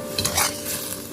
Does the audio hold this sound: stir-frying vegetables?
yes